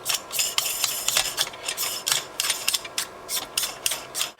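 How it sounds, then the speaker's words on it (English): Metal ring being screwed around the rail system of a KWA SR series airsoft rifle, giving a steady, close stream of small ratcheting, grinding mechanical clicks with no talking. "start screwing that ring around"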